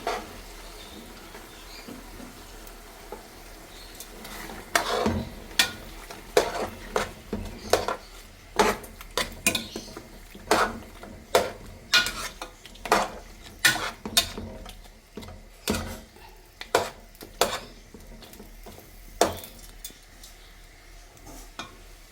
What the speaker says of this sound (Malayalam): ഈ അരപ്പ് നന്നായി ചേർത്ത് ഇളക്കിയെടുക്കാം നമുക്ക്